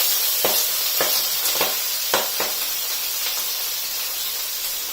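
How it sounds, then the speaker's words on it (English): Stir-fry vegetables dropped into hot oil hiss and sizzle in a steady, close wash of sound, with a few sharp crackles and spits early on. "I'm just going to add the stir fry vegetables straight away."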